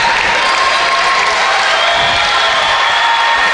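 A big crowd at a high school varsity basketball game between Barren County and South Warren claps and cheers loudly and continuously, a dense wall of applause with scattered shouts.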